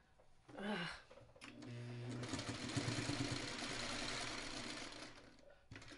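A sewing machine stitches quilt block seams in a steady mechanical whir lasting several seconds, close and fairly quiet, with brief handling noises before and after.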